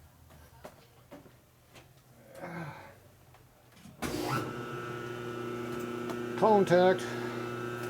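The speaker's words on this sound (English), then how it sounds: "Phase converter's on." A rotary phase converter in a machine shop switched on, a sudden loud startup surge settling into a steady electrical hum and whine, with a voice speaking briefly beforehand and a short squeaky burst near the end.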